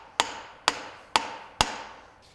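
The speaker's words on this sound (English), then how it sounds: "the next step is going to be knocking in our sow block key without moving the sow block at all" A sow block key is hammered into a Beaudry power hammer: four sharp metallic blows at a steady pace, each ringing briefly before the next strike, close and clear with no talking.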